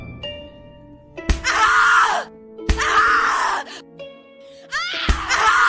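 Anguished human screams from the horror game The Cat Lady, three long loud cries separated by short pauses, sharp bangs at their onsets, over a low droning background.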